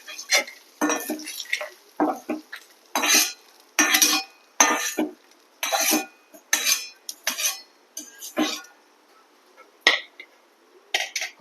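For an Onam feast curry, ingredients are fried and stirred in a pan, heard as repeated metal scraping and clinking of a spatula in short, uneven bursts with quiet gaps between them, close and clear, with no talking.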